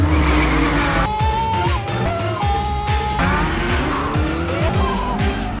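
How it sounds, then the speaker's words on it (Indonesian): A car driven recklessly screeches its tires in repeated long squeals over a roaring engine, loud and close, with skidding sweeps overlapping throughout. "mereka sedang disuruh oleh Raj untuk mengantarkan mobil tersebut kepada konsumen, tapi malah dipakai ugal-ugalan."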